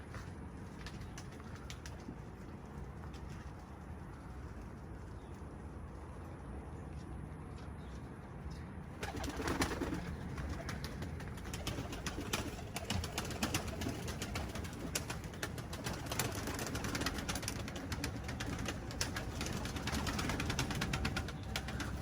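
Pigeons cooing outdoors, repeated soft low coos amid general bird activity, steady throughout and becoming somewhat fuller and louder in the second half, with no speech.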